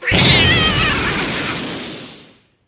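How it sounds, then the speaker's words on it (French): A long, loud, wavering kitten meow swells and slowly fades out over a couple of seconds, up close with no talking. "Oh le petit chaton qu'il est mignon, minou"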